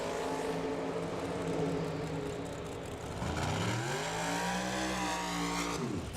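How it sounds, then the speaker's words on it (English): A turbocharged, nitrous-fed drag race car at a raceway spools up, a loud rising whine climbing in pitch over a roaring engine, sweeping upward then holding high before cutting off near the end. "Listen to the turbo car spooling up."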